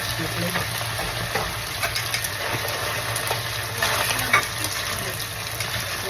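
Spare ribs frying in hot oil in a pan while being stirred, giving a steady sizzle with a low background hum and occasional scraping knocks throughout.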